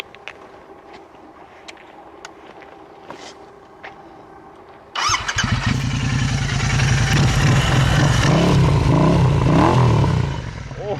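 A motorcycle starts up and rides out across open salt flats, its engine rising to a loud, steady drone that stays close before easing off near the end, with faint noises beforehand.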